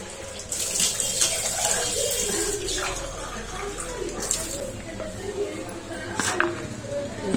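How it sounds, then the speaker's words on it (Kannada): A ripe mango curry in Malenadu home-cooking style bubbles in a pot after salt has been added, giving a steady, close watery seething and hiss that carries through the whole stretch with a few sharper pops. "ನೋಡಿ, ಮರಳ್ತಾ ಇದೆಯಲ್ಲ, ಈ ಥರ ಮರಳಬೇಕು."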